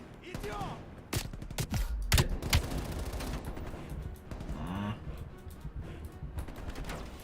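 Loud, rapid bursts of gunfire shooting up a KGB office in Call of Duty, with overlapping volleys and sharp individual shots crackling continuously for several seconds.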